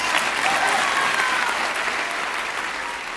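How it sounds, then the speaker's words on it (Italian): An audience of aristocrats applauding, a thick burst of many hands clapping loudly at first and then easing slightly in strength, steady and continuous throughout with no talk over it. "che mi stanno applaudendo e mi stanno premiando"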